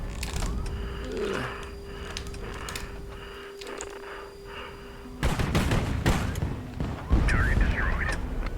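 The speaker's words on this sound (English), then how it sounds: "It's fantastic shooting on their part." Naval cannon fire from warships in the HighFleet game, a few sharp booms and clanks against a humming background, with a heavy burst of blasts in the latter half and a voice talking over it.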